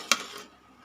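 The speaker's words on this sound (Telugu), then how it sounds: "చూడండి చిత్రాన్నం కలుపుతున్నాను" A utensil scrapes once against a pan while lemon rice (chitrannam) is being mixed, a sharp close metallic clink followed by a brief softer scrape, then quiet.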